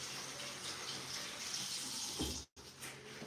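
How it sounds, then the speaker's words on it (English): Gloves rinsed under a running bathroom tap, a steady close splash of water that breaks off briefly near the end before resuming. "Let me rinse off these gloves first."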